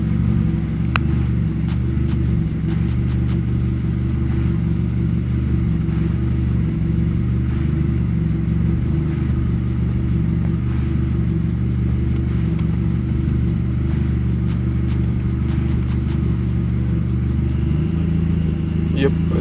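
A VW 20V engine idles steadily at close range with a constant low rumble, and a faint electrical hum from the idle air control valve runs along with it. The pitch shifts slightly near the end.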